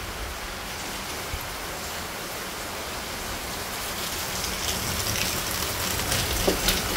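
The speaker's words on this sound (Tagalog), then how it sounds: "Naku, umuulan." Steady rain pours down outdoors in Tacloban, a continuous even hiss of drops on surfaces that holds at the same level throughout, with no voices over it.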